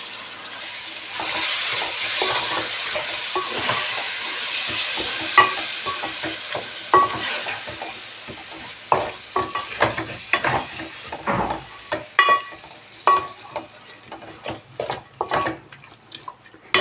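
Curd stirred into frying cashew mushroom pulao in a pan, a soft sizzle under repeated wet clacks and scrapes of a spoon, growing busier and more rhythmic toward the end, with no talk.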